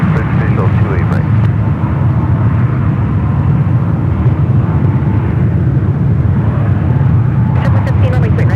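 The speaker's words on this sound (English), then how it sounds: "Possible double landing on the 28s involving looks like 2 E-jets." Two Embraer E-jets landing on runway 28 at San Francisco airport, heard as a loud, steady low jet roar that fills the scene throughout, with faint chirps near the end.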